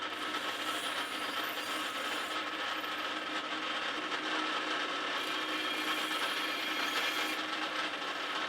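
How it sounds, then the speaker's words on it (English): A power drill bores out rivet holes on a Land Rover engine part to size them for M4 taps, a continuous faint whirring and grinding heard alone, with small shifts in pitch as the bit bites. "The rivet holes are just under the drill size for M4, so I'll drill and tap for that size."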